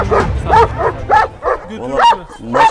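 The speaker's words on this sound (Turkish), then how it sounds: "Maşallah karşısındaki köpek de gayet güzel." Turkish shepherd dogs bark on a farm, a run of about seven loud, close woofs and yips in an uneven rhythm, with no talk over them.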